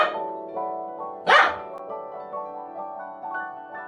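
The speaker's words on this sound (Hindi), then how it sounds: "dog" A single short dog bark rings out clearly over a soft melodic music bed, one brief burst and then only the tune carrying on.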